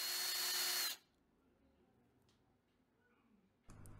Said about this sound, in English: Drill slightly wider holes because you misjudged the size of your screws.